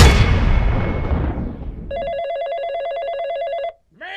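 A telephone rings with a loud warbling electronic trill, one sustained burst that follows a fading crash-like noise and then cuts off sharply, leaving a brief sliding tone after it.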